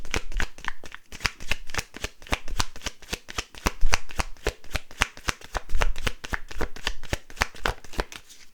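Tarot cards being shuffled by hand, a close, crisp run of rapid riffling flutters repeating in bursts with no speech over them.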